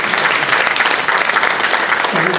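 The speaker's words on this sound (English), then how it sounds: "let's hear a round of applause" Loud, continuous applause from members gathered at an alliance meeting honoring a Palm Beach County official, a thick wash of many hands clapping close by for the whole stretch.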